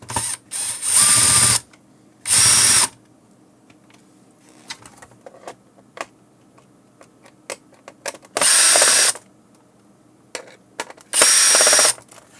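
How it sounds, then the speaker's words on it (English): A power screwdriver whirs in four separate short, loud bursts, removing the four screws from a 3M XT-1 drive-thru intercom keypad, with faint clicks and handling noises between bursts. "Let's get started and open 4 screws."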